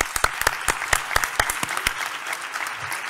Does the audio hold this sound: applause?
yes